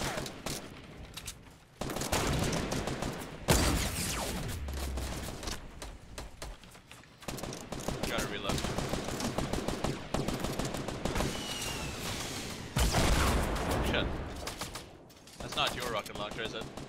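Rapid gunfire bursts and machine-gun volleys in Fortnite, dense and continuous across the fight, with short gaps between fusillades and a player's excited voice over it.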